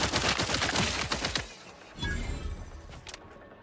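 Rapid gunfire in a video game, a dense stream of close, sharp shots that stops abruptly, followed by a shorter second burst and scattered cracks.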